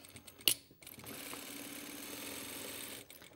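Sewing machine back tacking a seam through the point of a pointed pocket flap, a quiet steady mechanical whir running for a few seconds after a brief sharp click near the start.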